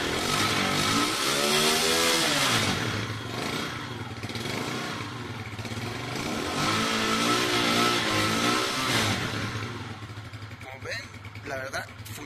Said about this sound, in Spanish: La verdad funciona bastante bien, está bastante bien la moto, arranca bastante bien